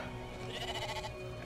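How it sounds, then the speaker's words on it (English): Sheep bleating in the video game Brothers, a single wavering bleat of about a second rising over a steady low game ambience, fairly close and clear, with no talking. "This is a fat sheep"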